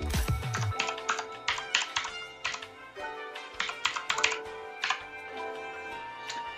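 Keystrokes on a computer keyboard while a Wi-Fi password is typed into a modem setup page, close and clear, in quick bursts of taps separated by short pauses, with no talking.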